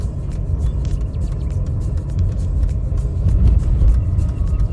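Low steady interior rumble of an old car on its first run with new wheels and lower-profile tyres, a continuous loud road drone with faint ticking above it, no voices.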